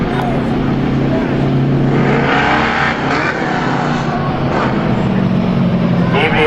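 Stock cars racing at a speedway during a heat, a constant loud engine roar with rising and falling passes, while a commentator talks over it.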